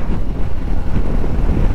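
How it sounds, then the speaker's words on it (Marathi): Strong gusting wind buffets a large vehicle on an overnight road journey from Manali toward Ladakh, a steady low rumbling roar with rising and falling pressure throughout, close and loud. "कालपासून एवढ्या मोठ्या प्रमाणात वारं सुटलं आहे"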